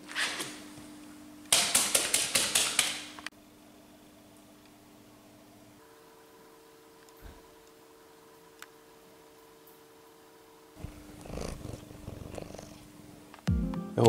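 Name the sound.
cat purring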